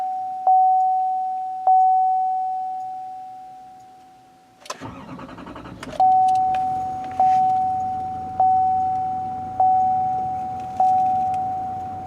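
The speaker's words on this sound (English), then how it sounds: "So you have to use the good old key to start it up." A 2018 GMC Sierra 2500 Denali diesel pickup started with a key: a steady chime, then the engine cranks and catches into a settled idle, while the repeating warning chime sounds over it, no talk.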